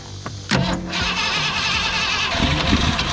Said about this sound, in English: Let's see if she'll crank.